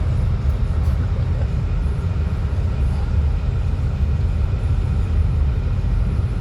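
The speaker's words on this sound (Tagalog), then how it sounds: "Yung train nakabalik na." A train passing close by, heard from inside a car during driving practice: a steady, loud, low rumble of rolling rail wagons that continues unchanged throughout, with no talk.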